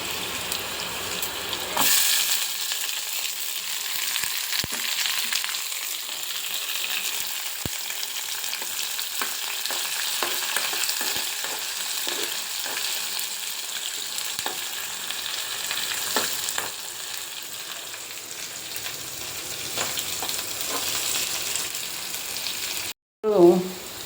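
Green chillies and dried red chillies sizzle in hot oil in a pan with onions, a steady frying hiss broken by light stirring clicks and a brief clatter near the end.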